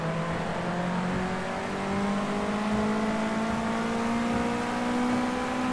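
A racing car engine in Project Cars 2 holds a steady high-rpm drone with smoothly rising tones, loud and continuous, in a car with possible damage.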